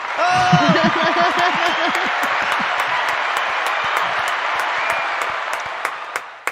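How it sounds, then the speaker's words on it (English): A studio group breaks into hearty applause and cheering, close and loud, with chuckles mixed in. The clapping thins out into a few scattered, irregular claps that continue to the end. "the timing's off today on the claps"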